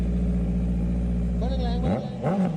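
A big bike's engine idles with a deep, steady rumble, then a sharp rev blips upward and a second burst follows, close and loud.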